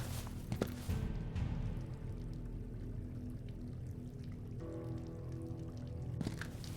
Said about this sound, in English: What's that running water over there?